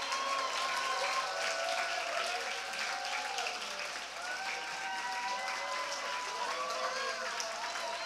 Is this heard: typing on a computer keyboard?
no